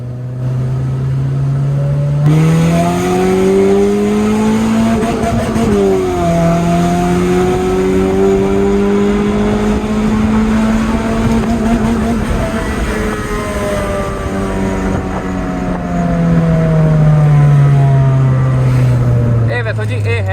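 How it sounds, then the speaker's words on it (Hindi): Sustained car exhaust roar from a Habshi Black fitted with an aftermarket exhaust, held at high RPM during a run with rising and falling engine pitch, loud and close throughout. "जैसे ही आपकी गाड़ी हाई RPM पे जाएगी आपका एग्जॉस्ट फुल टाइम वैसी हो जाता है"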